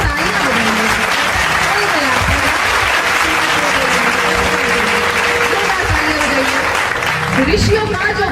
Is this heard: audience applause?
yes